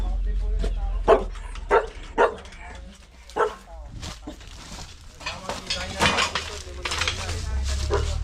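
A dog barks several times in short, spaced yelps amid clattering dishes and people talking nearby.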